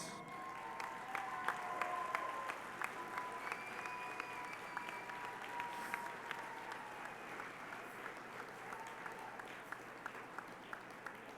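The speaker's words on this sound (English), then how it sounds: "let's give them applause" A seated crowd at a sports Hall of Fame tribute dinner applauds honorees standing or waving, with steady, moderately distant clapping sustained throughout.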